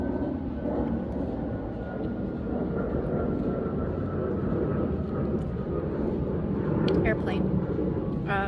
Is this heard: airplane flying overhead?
yes